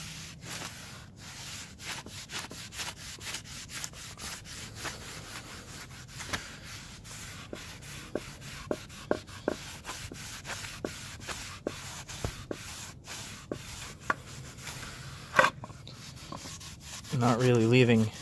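Wood stain is rubbed by hand onto a charred shou sugi ban wooden bench, giving a steady close scrubbing texture with small ticks and scrapes; a brief voice comes in at the end.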